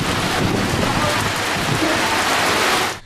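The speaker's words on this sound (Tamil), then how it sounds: "லேசான இடி மற்றும் காற்றுடன் கூடிய மழை பெய்தது" Steady, heavy rain pours down in a Tamil Nadu village, a dense, loud, unbroken hiss with low rumbling that may include light thunder and wind, running close and continuous before cutting off abruptly at the end.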